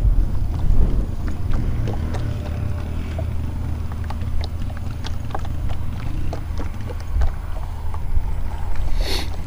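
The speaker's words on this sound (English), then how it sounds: "Throwing into the wind, probably at least a 10-mile-an-hour wind." Strong wind of roughly 10 miles per hour buffets a microphone outdoors on a bass-fishing trip, a steady broadband rumble and roar with gusty surges throughout, no voices.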